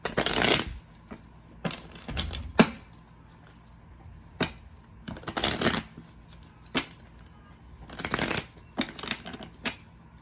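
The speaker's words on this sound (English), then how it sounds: "Let's shuffle just in case." Tarot cards are shuffled in several quick riffling bursts, soft papery flutters and taps spaced across the stretch with quiet pauses between.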